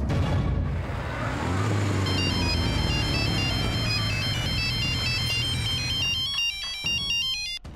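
A mobile phone rings with an incoming call, a bright repeating electronic ringtone melody playing steadily over a low background rumble before cutting off near the end.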